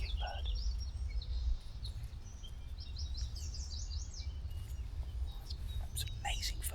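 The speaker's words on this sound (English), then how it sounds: "Highly aggressive, highly territorial, the eastern kingbird." Eastern kingbirds calling over a wetland, several short high chattering bursts and chirps at moderate distance over a low rumbling background, with faint voices murmuring underneath.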